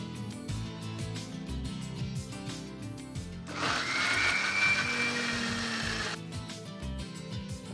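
A mixer grinder blends a paste with masala and salt; a loud, steady motor whine with grinding roar rises in the middle and runs for about two and a half seconds, with kitchen clatter and handling before and after.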